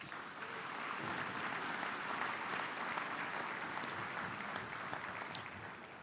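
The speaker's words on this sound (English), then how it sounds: "If we could please give our board a round of applause." A commencement crowd at Central Ohio Technical College applauds the college board, a broad, even roar of clapping that holds steady for several seconds, heard from a distance and fairly faint.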